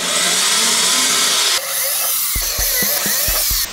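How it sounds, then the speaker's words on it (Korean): A power drill bores holes in the thin lid of a homemade air hockey table. A loud, high whine runs steadily, then breaks into several short, evenly spaced bursts as each hole is drilled. "먼저 구멍을 미리 뚫어 놓고요."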